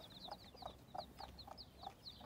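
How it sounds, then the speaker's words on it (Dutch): Chickens cluck steadily in a repeating rhythm, with fainter high peeping from chicks over it, all fairly quiet and with no talking. "er is nog een kip tevoorschijn gekomen met kuikens"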